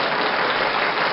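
Brief burst of canned applause from a stream deck sound effect, a dense, even wash of many clapping hands at steady loudness, cut off abruptly after about a second.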